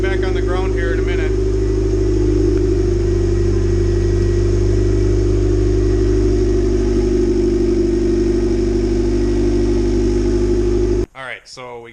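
A turbocharged B16 engine in a Honda Civic Si runs at a steady idle just after being fired up, with a continuous mid-pitched drone. Brief voices are heard at the start and a clatter at the end.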